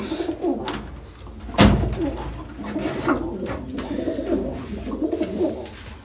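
Pigeons cooing in an underground breeding loft, repeated soft throaty coos close by with a sharp knock or bang partway through and faint background movement.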